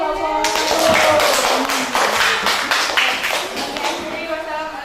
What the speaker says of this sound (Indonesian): kita kasih tepuk tangan untuk kelompok